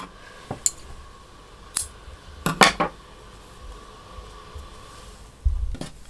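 Scissors cut crochet yarn in a few sharp, separate snips, including a quick double snip midway and a duller thump near the end, all against a quiet room.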